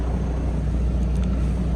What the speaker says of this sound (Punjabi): ਰੀਫਰ ਜਿਹਦੇ ਉਹ ਮੂਰੇ ਲੱਗੀ ਨਾ ਮਸ਼ੀਨ ਜੀ ਉਹ ਠੰਡਾ ਗਰਮ ਰੱਖਣ ਵਾਲਾ ਜਗਾੜ